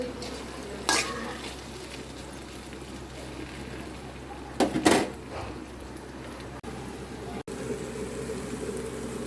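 Sliced okra (bhindi) fries in oil in a pan with a continuous soft sizzle, broken by a few sharp scraping strokes of a spatula as it is stirred.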